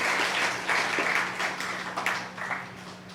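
An audience claps together at a Pongal speech event, a dense, steady burst of applause that rises and falls slightly and tapers near the end.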